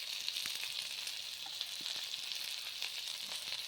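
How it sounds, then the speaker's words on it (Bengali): Tomato fries in oil in a pan with turmeric, chilli and other ground spices, giving a steady, bright, close sizzle with faint crackles and light stirring taps throughout. "এখন আমি টমেটোটা দিয়ে দিলাম"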